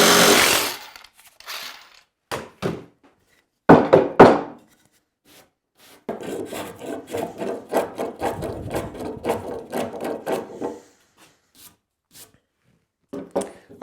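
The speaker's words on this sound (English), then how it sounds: "I just do it with the jigsaw." A jigsaw cuts across the end of a board for a bath vanity, with several short loud buzzing bursts followed by a longer steady cutting run, close up with no talk.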